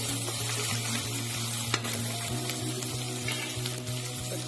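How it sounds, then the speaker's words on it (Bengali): Chopped garlic sizzling in a pan with fried onion, a steady, close frying hiss with faint scraping and stirring throughout, no talk. "এখন এই মুহূর্তে আমি দিয়ে দিব রসুন কুচিটা দিয়ে দিব।"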